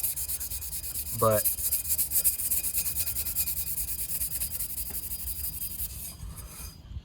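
A bronze boat propeller is rubbed hard by hand to clean it, a continuous close scrubbing and rasping that keeps going with only slight breaks.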